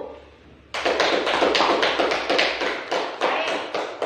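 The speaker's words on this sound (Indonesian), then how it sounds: "Berikan aplaus dulu untuk kelompok 1." Classmates give a student discussion group a round of applause in a school classroom, a sudden burst of many hands clapping close and loud, continuing steadily for over three seconds.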